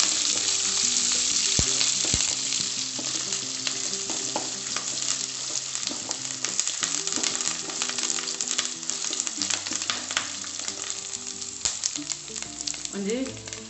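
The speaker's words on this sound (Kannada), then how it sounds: "ಫ್ರೈ ಮಾಡ್ಕೊಡ" Chopped curry leaves, ginger and garlic frying together in a pan for masala dosa, giving a steady, dense sizzle with scattered crackles and a low tonal backing underneath throughout.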